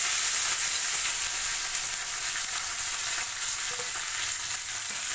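Small chopped onion, mint and curry leaves fry in hot oil for an aloo chicken curry, giving a continuous, even, close sizzle with no pauses.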